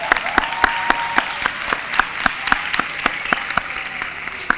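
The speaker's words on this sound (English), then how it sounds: "can we give them a round of applause?" About ninety graduates get a round of applause at a workforce and economic development achievement celebration, a full room clapping steadily with sharp individual claps standing out from the dense wash.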